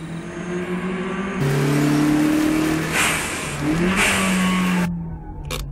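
Anime car engine revving loudly through a low-speed spin turn on a mountain road, pitch climbing and dipping in sweeping whines, then cutting off abruptly near the end.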